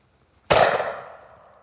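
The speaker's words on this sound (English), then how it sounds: "we're going to think a little bit about the recoil as we shoot the gun" A Miroku MK11 shotgun fires a single sharp, loud shot with high velocity cartridges at clay targets outdoors, the blast ringing out and decaying over about a second.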